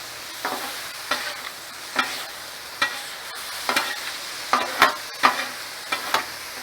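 Cumin and other spices being mixed into fajita filling in a hot pan, about a dozen sharp scraping stirs at irregular intervals over a low sizzle, close by with no talking.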